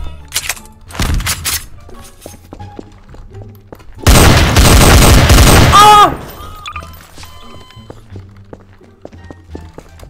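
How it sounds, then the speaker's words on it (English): A grenade explosion in Garry's Mod gun game, a video game: a loud, sustained blast of roughly two seconds with a ringing tail, preceded by a couple of sharp gunshots, with footsteps and quiet game noise around it. "Grenade!"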